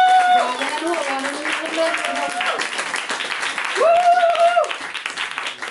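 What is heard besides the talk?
audience applause at a poetry slam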